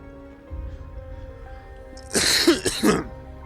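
A faint hum, then a pair of harsh coughs in quick succession from a man with a lingering cough, close and fairly loud, with a throaty rasp.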